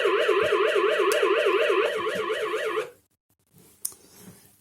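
A Xiaomi home alarm siren, set off by a door sensor, wails in a fast, steady warbling tone for about three seconds and then cuts out abruptly, followed by a quiet click and faint handling noise.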